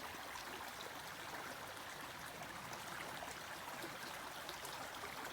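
A mountain stream runs along a wet July trail on Bromley Mountain, Vermont, giving a steady, even rush of flowing water that stays moderately near and unbroken throughout, with no talk over it.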